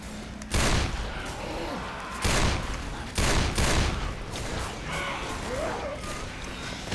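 Magnum pistol shots in the zombie shooter Left 4 Dead 2 crack out in several sharp, loud bursts separated by short gaps, over continuous game background noise.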